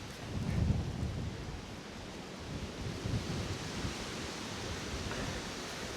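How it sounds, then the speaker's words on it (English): Wind gusts across an exposed spot, a broad, fairly quiet rushing roar with gentle surges, steady for a few seconds with no voices. "it's going to be blowy up here"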